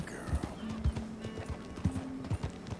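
Horse hooves clip-clop in the Western open-world game Red Dead Redemption 2, uneven close footfalls mixed with brief whinnying tones over soft outdoor ambience.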